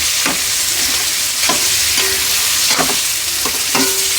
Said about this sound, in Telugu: నూనెలో మంచిగా వేపుకోవాలి